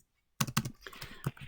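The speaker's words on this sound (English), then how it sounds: "I'm going to type that really quick up here." Quick keystrokes on a computer keyboard: a short run of close, crisp clicks with uneven rhythm that begins after a brief silence.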